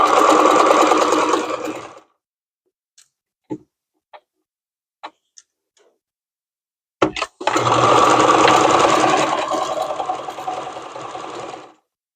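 A sewing machine with a thick needle stitches through a double thickness of quilt cotton in two steady runs of rapid mechanical whirring, close up, separated by a quiet pause with scattered small clicks and taps.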